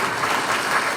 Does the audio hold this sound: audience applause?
yes